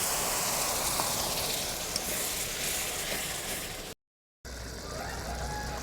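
Spice paste frying in oil as a splash of bowl-rinsing water is added, a loud hissing sizzle that slowly settles, broken by a brief silent gap before quieter sizzling resumes.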